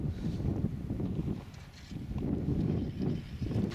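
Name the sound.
strong wind on the Volga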